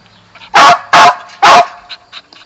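Three loud, sharp dog barks in quick succession, close by, followed by a few softer yips.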